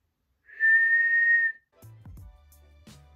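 A single steady, high whistled note held for about a second, close and clear, followed by soft handling noises.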